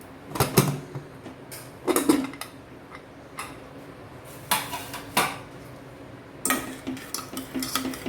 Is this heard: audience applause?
no